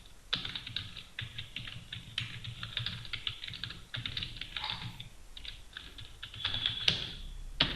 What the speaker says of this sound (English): okay, I just type some text for my client.